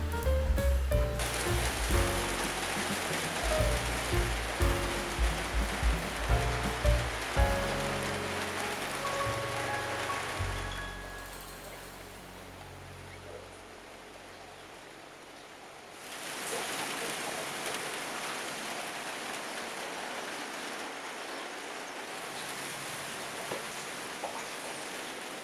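Heavy rain pours on a village in Tanjuang Alai, Pasaman, West Sumatra, heard from shelter at a small prayer house; a dense, steady hiss eases briefly and then returns strongly, with no talking.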